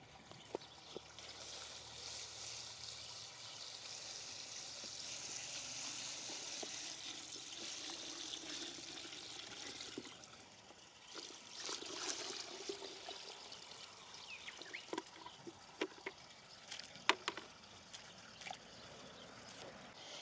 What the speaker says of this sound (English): Now, once your weeds are in the bucket, fill it up with some water.